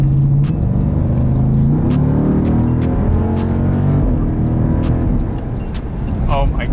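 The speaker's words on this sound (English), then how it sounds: "I can't believe a big SUV of this size pulls that nice." A big Jeep SUV accelerates hard, its engine note rising in a loud rumbling pull beneath excited talking from the driver.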